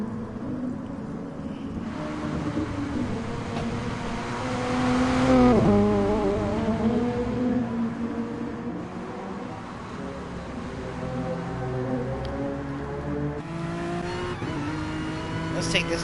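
GT3 race cars in a racing video game at the Red Bull Ring, engines revving and shifting with steady harmonic drone and a sharp pitch drop near the middle, continuous throughout under commentary.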